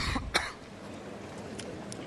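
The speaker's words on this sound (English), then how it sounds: "got a nasty cough, hasn't he?" A man gives a few short, sharp coughs near the start, in the quiet setting of a women's tennis match at the Hobart International. Faint crowd ambience continues after the coughs.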